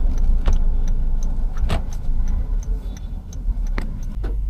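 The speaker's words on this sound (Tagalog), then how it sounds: "Traffic din itong Balintawak mo" Road traffic in Balintawak heard from inside a vehicle: a steady low rumble of engines and passing cars, with a few sharp ticks like a turn signal clicking over the din.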